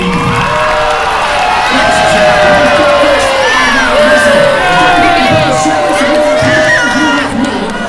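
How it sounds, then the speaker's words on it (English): Seventh and eighth grade students at a school assembly cheering loudly for the yellow team, a dense roar of shouting children with whoops and yells, sustained and close throughout. "Round of applause for our yellow team!"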